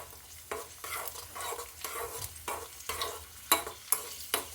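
Cashews and raisins frying in a pan for rava laddu, with a steady sizzle broken by repeated scraping stir strokes and a few sharp clinks near the end, heard alone without talk.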